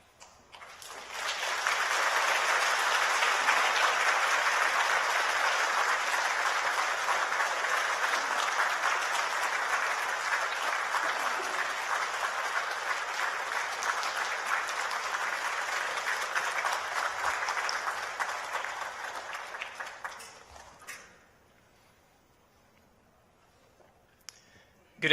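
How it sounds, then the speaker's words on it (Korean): A church congregation gives a big round of applause welcoming a pastor and a deacon to the stage, rising quickly and holding steady for about twenty seconds before fading into near silence. "목사님과 집사님 올라오실 때 우리 큰 박수로 환영하겠습니다."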